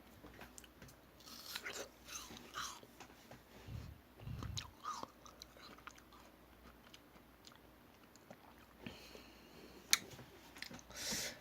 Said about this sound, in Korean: 얘는 약간 약간 조그만 얼음 알갱이들을 씹는 느낌이에요